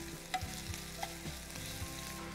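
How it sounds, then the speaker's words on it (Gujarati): Shredded ginger and green chillies sauté with carom seeds in a hot pan for a Gujarati dish, giving a steady close sizzle with a few light clinks and scrapes of stirring and no voices. "એને થોડી વાર સોતે થવા દેવાનું"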